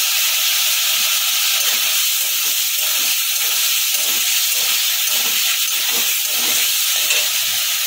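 Salted, steamed bottle gourd hits a hot pan and sizzles in a loud, continuous hiss with faint rhythmic bubbling underneath, no voices.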